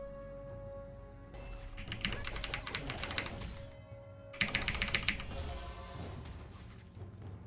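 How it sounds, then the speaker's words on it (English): Rapid clacking keystrokes on a loud mechanical keyboard, typed in two dense bursts with a pause between, close to the mic during a League of Legends game. "I need to fix my mic so it doesn't pick up on my key strikes, but it is a mechanical keyboard"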